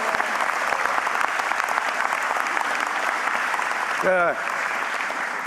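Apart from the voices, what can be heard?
audience applause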